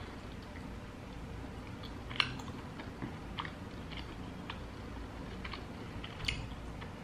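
Someone chews soft, gummy Turkish delight ordered from Amazon, producing faint close squishy, sticky mouth sounds with a few small clicks over a low background hum.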